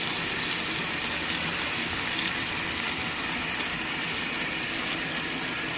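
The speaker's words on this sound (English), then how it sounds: "Oh, drain is still on, darn it." An RV washing machine drains water in a steady, loud, continuous gush and rush that holds unchanged throughout, close up with no voices.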